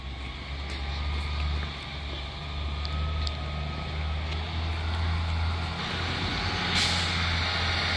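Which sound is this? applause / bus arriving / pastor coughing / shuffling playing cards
bus arriving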